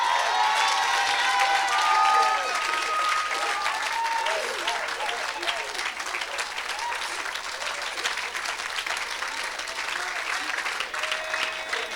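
A church congregation at a French-language evangelistic mission event bursts into loud, sustained applause and cheering that fills the room, holding steady for the whole stretch with voices mixed into the clapping crowd.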